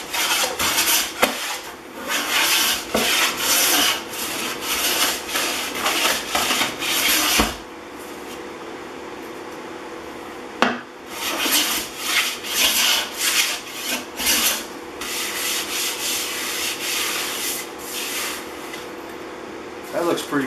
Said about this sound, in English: When I start going with the grain, I can hear it skipping across high spots.